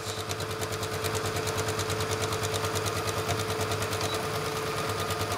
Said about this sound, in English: you go ahead and sew the rest of that down, and when you get to the edge, back stitch